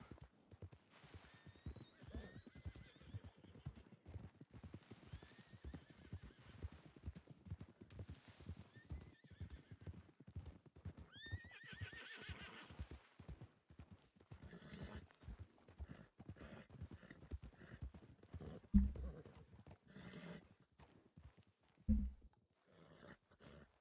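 Horse hooves clip-clop at a steady walking rhythm in the Western roleplay game WildRP, with whinnies and snorts rising over the hoofbeats and a couple of louder thuds near the end.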